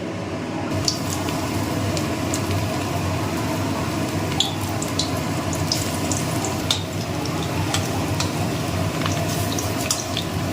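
Pakora batter fries in hot oil in a wok, giving a continuous close bubbling sizzle with wet crackles and occasional sharper pops, steady and moderately loud with no talking.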